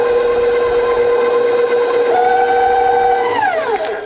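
Electric mixer running on low through cheesecake batter, a steady whirring motor hum with a sustained tonal whine that rises and shifts in pitch near the end as the speed changes.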